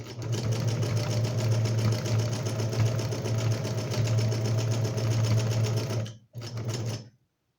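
A sewing machine runs steadily through practice fabric with a droning motor hum and rapid needle chatter, close and even for about six seconds before a brief stop, one short final burst and silence.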